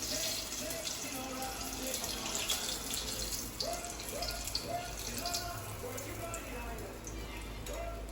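Water runs from a kitchen tap in a home kitchen, a steady quiet hiss and splash lasting the whole stretch, with someone speaking briefly over it.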